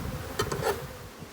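A bee swarm at a cutout from an AZ hive used as storage, a faint continuous buzz with a few brief louder passes of nearby bees, no talking.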